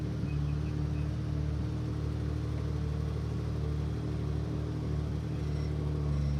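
A BMW E30 drift car idles on the grid at the Riga circuit during a drifting competition, a steady low engine rumble with a constant hum and no revving.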